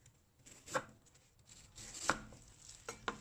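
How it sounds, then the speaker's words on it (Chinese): A knife cuts through peeled taro on a cutting board, three distinct, fairly quiet chopping knocks spaced about a second apart against a soft background. "再将它切成片"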